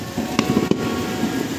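Firecrackers pop in the distance at a New Year's Eve celebration in the Philippines, a few sharp cracks over a dense, steady crackle and hiss of rain and scattered fireworks.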